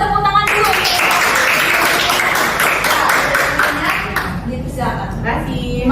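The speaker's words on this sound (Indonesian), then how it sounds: "Bisa tepuk tangan dulu." An audience at a cervical cancer health counseling session applauds, a sustained wash of clapping that fades out, followed by a few spoken words.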